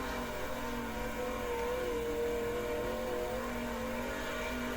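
Midget race car engine in the World of Outlaws '23 dirt racing video game, a steady sustained drone with a slowly wavering pitch, loud and continuous throughout with no talk over it.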